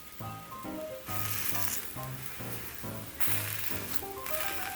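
A soya paneer garlic paratha cooking on its second side in a pan, giving a soft, steady sizzle that continues under faint background sounds.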